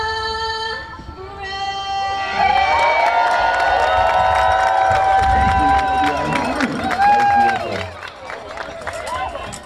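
Baseball crowd at Arcata Ballpark on a Friday evening, Humboldt Crabs against Medford Rogues, cheering and shouting loudly as the anthem's last sung note ends, with music fading into a sustained roar of the crowd.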